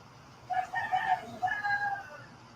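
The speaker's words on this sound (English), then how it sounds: "Reggie, is that your rooster?" A rooster crows once in a clear, stretched cock-a-doodle-doo, moderately distant and prominent over a quiet background, with no talking.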